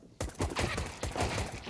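USP pistol fire in CS:GO, a burst of several rapid suppressed-sounding shots in quick succession, loud and close, with no talk over it.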